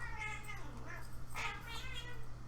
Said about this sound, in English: Can you guys hear my cats? I have 2 cats and they're going nuts.